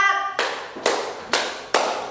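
Four crisp, evenly spaced hand claps, each a sharp slap with a short decaying ring, close and fairly loud in a classroom, preceded by a brief voiced tone at the start.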